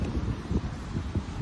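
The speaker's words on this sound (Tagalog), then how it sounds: "Lakas ang hangin dito guys." Strong wind buffeting the microphone in low, uneven rumbling gusts, loud and close, with no voices, outdoors before flying a DJI Mini 3 drone.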